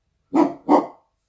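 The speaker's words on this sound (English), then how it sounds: "This kid barks at everything." A pet dog gives two sharp barks in quick succession, close and loud, each about a third of a second long, with silence on both sides.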